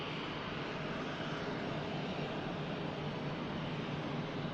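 Airliner engines at Manchester Airport, a continuous broad roaring rush that stays steady and fairly loud throughout, with no voices.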